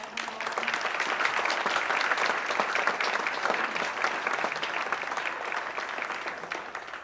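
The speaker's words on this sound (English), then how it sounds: "if everyone could please give a round of applause to Marcy May" Sustained audience applause at a university speaker event at WCSU, many hands clapping in a steady, fairly distant wash that holds its level across several seconds.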